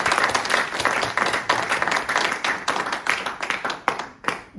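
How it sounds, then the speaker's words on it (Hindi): A burst of enthusiastic applause from a crowd, many hands clapping steadily and densely for several seconds. "एक बार जोरदार तालियां मेरे बड़े छोटे भाई के लिए।"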